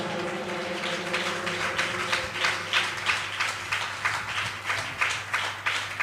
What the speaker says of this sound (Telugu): ఇప్పుడు చప్పట్లు కొట్టు గట్టిగా.